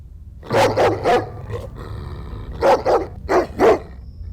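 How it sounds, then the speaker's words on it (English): A dog barking and growling indoors in a kitchen, several close, loud barks in two quick bursts with low rumbling growls between them and no voices. "my dog started growling in the background"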